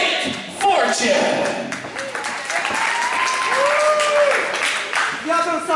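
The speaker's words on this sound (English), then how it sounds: "Stop clapping" A wrestling crowd at an IWA Mid South match claps steadily throughout, loud and continuous, with voices shouting and talking over the applause.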